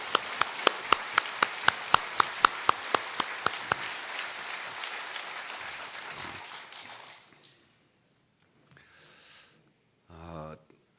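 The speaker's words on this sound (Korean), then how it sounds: "박수로 격려해 주세요" A congregation applauds performers and accompanists at a year-end church service, opening with strong, evenly spaced synchronized claps that soften into scattered clapping and fade to near silence, followed by a brief murmur and a short low sound.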